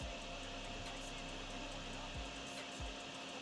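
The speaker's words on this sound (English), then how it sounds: "Just try to vacuum as much of this up as I can" A vacuum sucking up a puddle of water behind a curb near a convenience store in the video game DrainSim, a steady close motor whine with a few low thumps.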